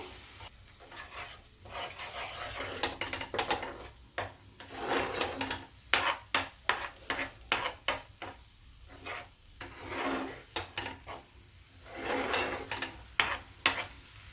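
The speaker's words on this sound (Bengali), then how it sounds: "এবার এটাকে আমি মশলার সঙ্গে কষিয়ে নিচ্ছি" Chicken being sautéed with cumin and coriander powder masala for chicken bharta, a spatula scraping and stirring the pan in repeated strokes over a soft sizzle, close and fairly loud, no voices.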